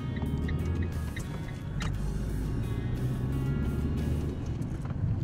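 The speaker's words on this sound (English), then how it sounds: "if I just drive up this road, I'm just going to build up a bit of speed" A car drives up a road and gathers speed, its engine droning steadily and close from inside the cabin with faint ticking.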